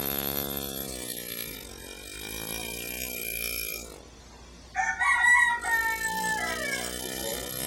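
A rooster crows in a workshop where coins are being carved, a long harmonic call that breaks off midway and resumes, fairly loud and close, with a bright tonal pattern over steady background.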